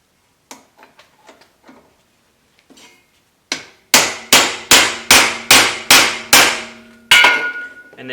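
A hammer taps a socket seated over a wheel stud on the front axle of a 2005-2020 Ford Super Duty truck. Several light taps come first, then a steady run of seven loud metallic blows, close up and alone, ending in a longer ring.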